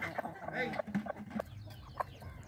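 Farmyard chickens and a big rooster cluck in scattered, fairly soft calls, with someone speaking over them throughout.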